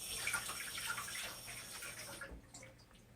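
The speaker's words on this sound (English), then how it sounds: "I'm going to fill up the can with water just to rinse it and toss it in here" Water splashes and trickles into an emptied tomato sauce can for rinsing, a faint, close pouring sound that thins out and stops near the end.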